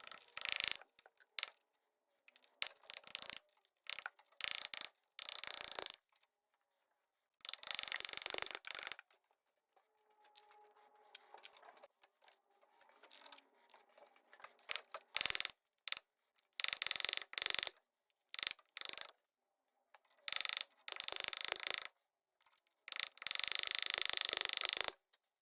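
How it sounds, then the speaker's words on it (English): Brick being chipped away by hand at an outside house wall, heard as irregular bursts of sharp scraping and chipping strokes separated by near-silent pauses, close but quiet, with no talk. "So what I'm going to do is just chip away at that brick to get the clearances I need."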